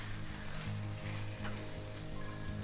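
Vegetables glossed with corn slurry sizzle steadily in a stir-fry pan, a continuous soft frying hiss over a low steady hum, with no talk.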